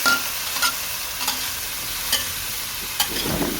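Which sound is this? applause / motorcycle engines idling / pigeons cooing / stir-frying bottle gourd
stir-frying bottle gourd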